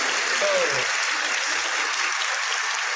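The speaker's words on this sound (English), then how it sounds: "Give a round of applause." An audience applauds steadily for three seconds, a dense crowd of clapping in a room, with a brief voice heard at the start.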